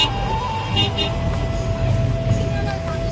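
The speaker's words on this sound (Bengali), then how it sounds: "আমাদের গাড়ি ঘুরে ঘুরে উঠছে পাহাড়ে।" A car engine drones steadily as the vehicle winds up a hill road in Assam, a constant close hum with road noise and no clear breaks.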